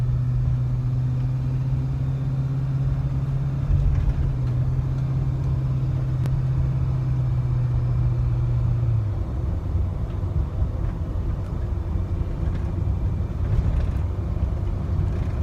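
A 2011 Chevy Suburban LT 2500HD with an LMM Duramax diesel drives on rough roads, giving a loud steady low rumble of engine and road noise that builds as it speeds up, with no talking.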